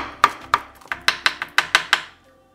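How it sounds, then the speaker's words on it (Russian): A kitchen knife finely chops a few parsley sprigs on a board for a Turkish egg breakfast, about nine crisp, close taps in a quick, uneven rhythm. "Пару веточек петрушки я нарезаю мелко."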